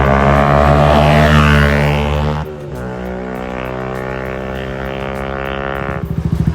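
Yamaha MT125 motorcycle being ridden: a loud, close single-cylinder engine note revving hard and holding, with a gear change around two and a half seconds before pulling steadily again, then a rapid popping idle at the end.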